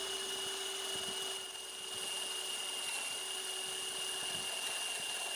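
A dull router bit grinds through the wood of a guitar body, a high steady whine with a dip in pitch partway through as the cutter bogs, fairly close and without talk.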